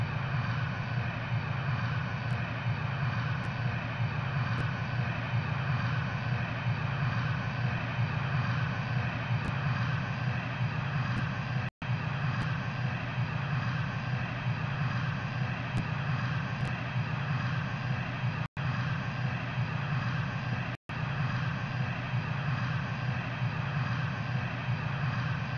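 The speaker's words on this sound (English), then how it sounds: "Lufthansa 72, taxiing to runway 24" A Lufthansa airliner taxis toward the runway in the Infinite Flight simulator, a steady, even engine drone that holds unbroken and loud throughout, with only a couple of brief dropouts.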